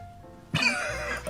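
One close, sharp cough bursts out in an edited production, followed by a raspy wheezing breath that trails off, heard alone without talking.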